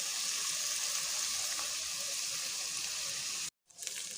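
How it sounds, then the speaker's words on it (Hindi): Spices for beef masala fry in a pan with a steady, loud hiss and sizzle, cut by a brief silence near the end before the sizzle returns. "अब जब सारे मसाले हमारे भुन चुके हैं"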